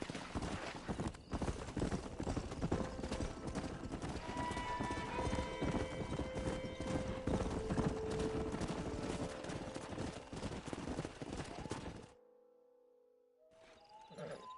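Horse hooves clip-clopping steadily in Red Dead Redemption 2, under gunfire and a busy game mix, with a possible whinny in the middle; the sound drops out near the end before faint tones return.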